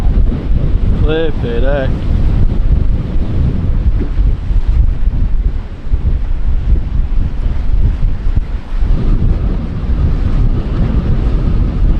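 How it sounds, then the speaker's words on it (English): Strong wind roars across a microphone aboard an ocean-going catamaran sailing single-handed at sea, a steady loud rush with waves and hull noise beneath and a brief exclamation from a man near the start. "bit of wind, bit of wind, bit of wind"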